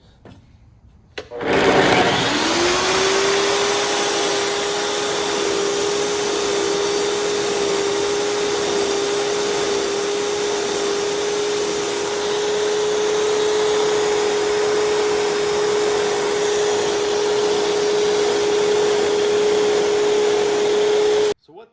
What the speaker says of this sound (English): I'll show you really quickly how to dress that blade.